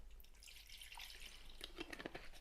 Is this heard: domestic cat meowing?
no